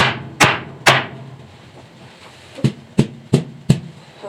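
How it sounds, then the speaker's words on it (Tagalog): A chiffon cake pan filled with batter is knocked against a surface to release air bubbles: two sharp, close taps, a pause, then four more evenly spaced knocks. "Saka mo itaktak na ganun. Para wala yung bubbles niya."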